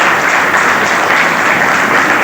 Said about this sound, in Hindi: तो जोरदार तालियां उस इंसान के लिए जिसने आपको